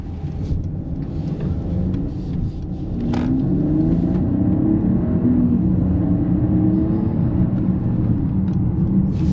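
A 2025 Mercedes GLE 450 4MATIC Coupé pulling away in sport mode, its engine a steady low rumble heard from inside the cabin that swells slightly as it accelerates, with no talking.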